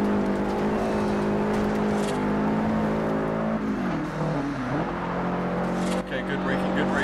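Engine of a car launching and driving in Forza Horizon, a loud continuous drone that rises in pitch as it accelerates, then dips and climbs again through gear changes, with someone talking over it.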